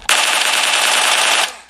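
Sustained automatic gunfire from the mobile shooter PUBG Mobile, played on a Xiaomi Redmi Note 9S, rattles loud and continuous for about a second and a half before cutting off, followed by a short sharp burst at the end.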